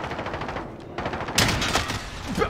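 Rapid automatic gunfire in Call of Duty: Modern Warfare, with dense bursts of shots rattling over a steady background and a sharper, louder volley near the middle, no speech.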